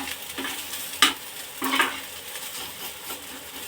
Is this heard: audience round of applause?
no